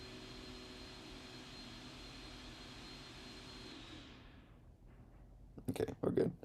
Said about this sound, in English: Hold on, someone's vacuuming.